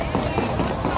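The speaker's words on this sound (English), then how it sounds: "The moment the shooting started caught on this cell phone video Monday night" Sharp repeated gunshots amid a Monday-night shooting in the Como neighborhood of Fort Worth, recorded on a cell phone, come as several distinct bangs in quick irregular succession over a constant noisy background.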